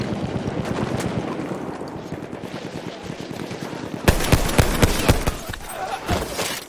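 Weapons fire in Battlefield 1, rapid machine-gun bursts rattling close and loud, steady at first and then heavier, sharper volleys in the later seconds.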